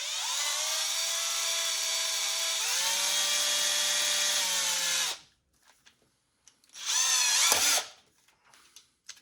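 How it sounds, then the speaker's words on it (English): A power drill with a 1/4-inch bit bores straight through a plastic Hasbro wand, a steady whining buzz that shifts pitch partway, stops, then bursts again briefly before trailing off. "So you line that up and drill all the way straight through."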